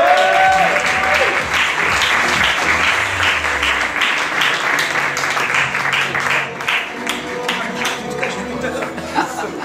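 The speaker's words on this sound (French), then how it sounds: "Merci d'applaudir Abdellak Lamidi." Crowd applause for Abdellak Lamidi at a casino anniversary celebration in Salies-de-Béarn, steady dense clapping with a voice and some music underneath.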